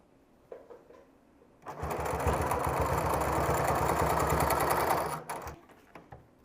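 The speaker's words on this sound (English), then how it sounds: "now I'm going to use the machine to stitch along it again so that the seams match the rest of the jacket" A sewing machine stitches along jacket seams with a loud, rapid mechanical chatter that starts after a couple of seconds, runs steadily for about three and a half seconds, then stops, with a few faint clicks before and after.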